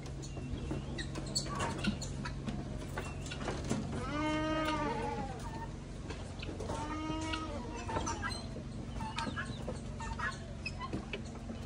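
Goat bleating on a beach farm in Jamaica, two drawn-out wavering bleats close by amid rooster crowing and clucking, with steady outdoor farm background noise throughout.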